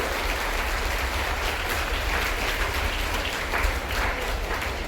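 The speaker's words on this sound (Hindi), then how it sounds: "जोरदार तालियां बजनी चाहिए" Steady, loud applause from a large crowd at a school Guru Purnima ceremony, a dense continuous patter of clapping with no pauses.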